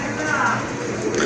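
Pigeons at a seller's loft coo softly in low, rolling murmurs that run continuously through the moment, with talking going on over the birds.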